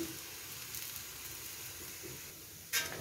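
Flatbread batter cooking on a pan over a medium gas flame gives off a faint, steady sizzle and hiss, with one brief louder spurt of sizzling near the end.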